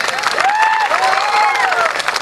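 A crowd at a political public rally in Rajpipla applauds to welcome a state party president. Dense, loud clapping is layered with rising and falling cheering voices.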